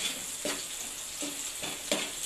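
Garlic fries in oil for chicken lollipops with a soft, steady sizzle. About four brief stirring scrapes break it at fairly regular intervals, all quiet and close with no voices.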